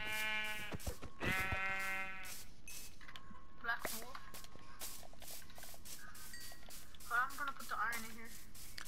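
Black sheep in Minecraft giving a few short bleats amid clicking game sounds and rhythmic mechanical ticks, fairly faint and close, with a player's voice mixed in.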